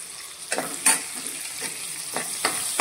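Garlic, curry leaves and a pinch of asafoetida frying in hot oil for a Maharashtrian bombil (Bombay duck) masala, a steady close sizzle broken by several soft stirring scrapes, with no talking.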